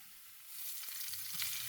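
Flour being stirred into hot oil for a gumbo roux, a soft faint sizzle with light scraping strokes of the spoon, quiet and close.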